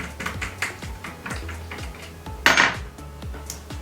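A nut on a circular saw blade is unscrewed with an Allen key, giving a steady series of small metallic clicks and ticks, followed by a brief louder metal clatter, all close and with no talking.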